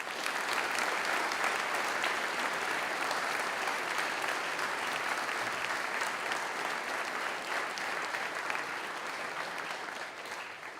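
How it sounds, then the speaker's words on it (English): Sustained audience applause in a school chapel service for student ambassadors at a sevens tournament, even and full throughout, easing slightly toward the end. "Let's hear a round of applause for them."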